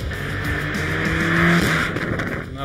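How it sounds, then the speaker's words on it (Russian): A car accelerates hard to 80 km/h on a driving lesson, its engine loud and close and rising in a steady drone while the tires hiss, with no talking. "Давай попробуем 80. А давай. Разгон до 80."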